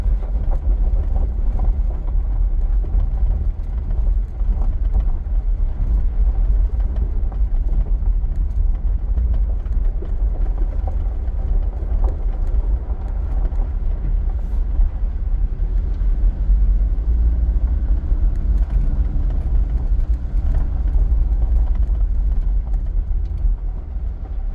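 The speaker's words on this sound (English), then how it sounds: "We're going to basically drive between them." A car driving along a road through the Gardens of Stone, its engine and tyres making a constant low rumble throughout with no talk.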